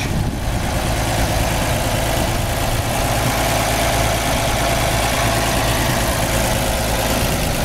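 The original six-cylinder engine of a 1929 Chevrolet two-door sedan coach runs at a steady idle, a loud, continuous, close rumble with no voices.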